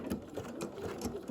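Sewing machine running a blanket stitch on appliqué, quick rhythmic mechanical needle clatter at close range, steady and alone.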